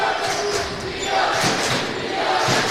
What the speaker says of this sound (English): The crowd, the student section right below us getting into it